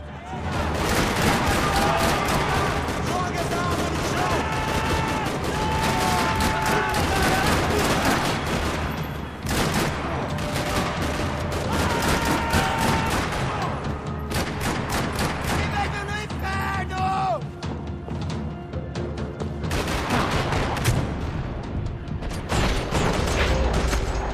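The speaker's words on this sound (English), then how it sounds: "Another parking lot rattling with gunfire." Sustained gunfire rattles through a parking lot in the video game Max Payne 3, dense bursts of automatic weapons and sharp shots layered over a loud, continuous din with no pauses.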